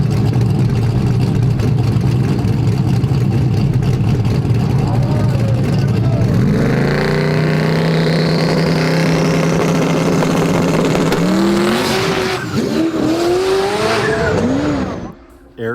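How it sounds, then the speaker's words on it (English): Drag race cars roar down the track at a drag racing event, a loud sustained engine howl that rises in pitch as they launch, then thins out with a brief squeal before fading to quiet. "I didn't realize Tommy was right behind Eric until I sent Eric down the track"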